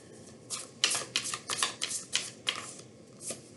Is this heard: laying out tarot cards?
yes